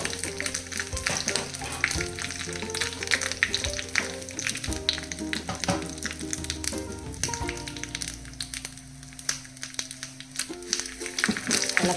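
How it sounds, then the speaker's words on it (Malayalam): Grated coconut, dried chillies and curry leaves crackle and sizzle in hot oil in a pan as they are stirred until brown, a busy close frying noise with frequent spoon taps throughout. "ഇളക്കിയിട്ട് ബ്രൗൺ കളറാകുന്നവരെ ഇളക്കുക."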